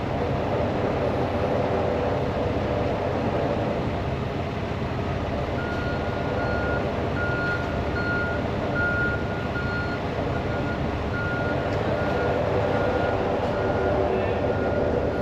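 Reversing beeps from a tour bus at a cruise port sound as a steady series of evenly spaced high tones, rising partway through over a constant loud rumble of engines and port bustle.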